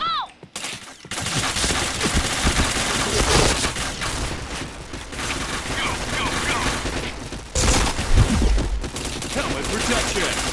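Rapid gunfire in a shooting video game, dense sustained bursts and fusillades with loud booming peaks, game voice lines and effects mixed in.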